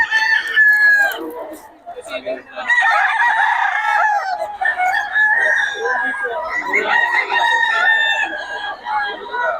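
A Sweater Kelso gamecock rooster at a market crows loudly and repeatedly nearby, long strained calls with brief clucks between them, alone without talk.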